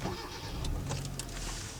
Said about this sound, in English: The next thing you'll notice is the engine as soon as you turn the car on.